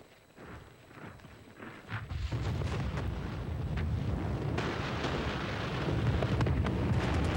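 Heavy artillery from large cannons fires in a World War I battle scene, a continuous rolling roar of distant booms that swells louder after a couple of seconds and holds steady, with no talking.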